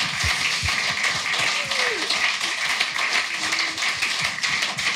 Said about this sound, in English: Can we just have a massive round of applause for Jack and for Steve?